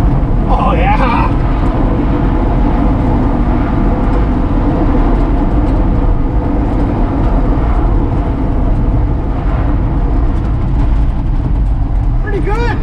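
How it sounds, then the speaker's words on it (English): A 1966 Ford F100 truck drives along with a steady, loud rumble of tires and engine exhaust that stays constant throughout. "the tires make more noise than the exhaust"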